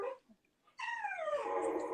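Pet dogs whine and whimper eagerly to go out, a brief faint noise first, then a long, wavering, high-pitched whimper that slides downward and continues close by.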